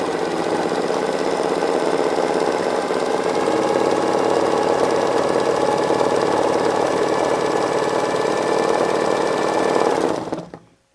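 A sewing machine quilting with two threads through a Schmetz gold topstitch needle, running in a loud, rapid, steady mechanical whir for about ten seconds before stopping abruptly.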